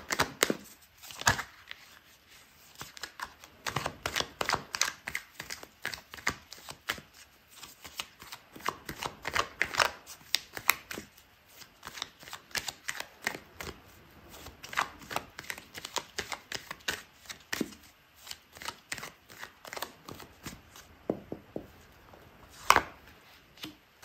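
A deck of tarot cards is shuffled over and over at close range, with dense riffling flutters and soft taps in an uneven rhythm and no talking.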